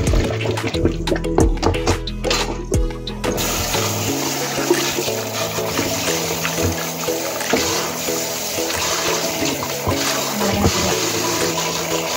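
Running water from a tap rinses a boiled pork head in a sink, a steady splashing gush that stays loud and continuous throughout, with a brief clatter of handling near the start.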